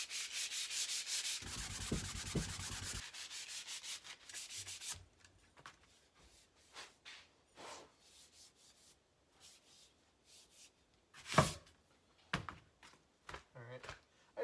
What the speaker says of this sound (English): So without further ado, I'm going to get to sanding.